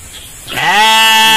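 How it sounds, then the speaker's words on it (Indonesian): A single goat lets out one loud, close bleat that rises and holds while it is being herded, after a brief quiet lead-in. "Ini lagi mengembala kambing."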